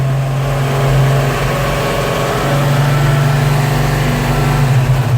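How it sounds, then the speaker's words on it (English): A Dodge Challenger with a 572 engine being tuned nearby, its loud continuous engine roar rising and falling as it revs, filling the whole stretch without any talking. "Sorry for the noise. They're tuning a 572 Challenger"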